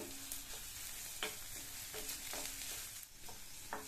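Green chili, ginger and finely chopped curry leaves sauté in a pan, a steady close sizzle broken by periodic scraping stirs, with no talking.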